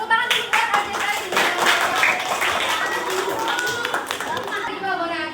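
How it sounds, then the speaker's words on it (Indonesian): Students clapping their hands together in a classroom, a brisk burst of many palms that continues across the clip with children's voices mixed in. "Tepuk tangan dulu buat Aja Zali"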